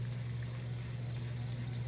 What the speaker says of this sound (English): this is a very little bit of ghee I'm putting here.